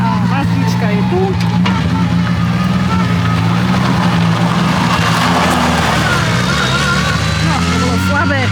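A Mazda drift car's engine runs steadily at a drift event, a sustained rumbling drone with broad roaring noise, close and loud, while people talk nearby.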